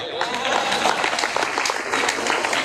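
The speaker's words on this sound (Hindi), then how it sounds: "जोर से तालियां बजाओ" Audience at a Hindi comedy poetry show claps loudly on request, a full, close burst of many hands clapping that holds steady, with a voice faintly underneath.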